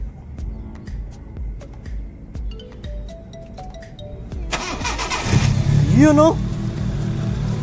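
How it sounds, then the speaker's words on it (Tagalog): A 2005 Honda Civic engine cranks and catches after a stretch of quiet clicking, then settles into a loud, close idle with a brief rev; people talk throughout. "Start."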